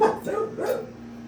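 A dog gives a short burst of two or three quick, yipping barks close by, then the sound trails off into a brief low whimper.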